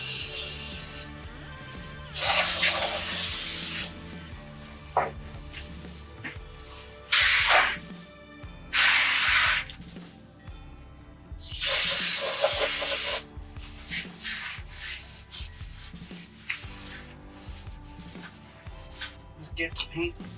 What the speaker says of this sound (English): Spraying it with the brake cleaner that came with the kit.